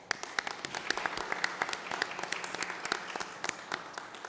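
A round of applause at a city council special meeting, scattered hands clapping steadily in a hall, mid-distance and moderate, sustained without a clear build or fade.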